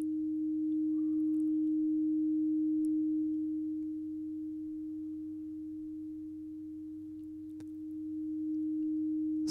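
Steady sine wave tone from a Tone Generator plugin holds one pure, constant pitch, with the level dipping slightly midway before rising again; no talk.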